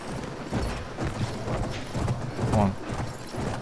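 Horse hooves clip-clop at a steady trot amid game mechanisms and background noise in Battlefield 1 multiplayer on PS4, fairly close and continuous, with a brief whinny near the end.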